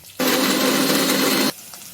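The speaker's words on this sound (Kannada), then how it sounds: "ಸ್ವಲ್ಪ ನೀರು ಹಾಕ್ಕೊಂಡು ತೆಂಗಿನಕಾಯಿ ರುಬ್ಕೊಳ್ಳೋಣ." A mixer grinder whirs as it grinds coconut and mint with a little water, one loud, steady burst of just over a second that cuts off abruptly into near silence.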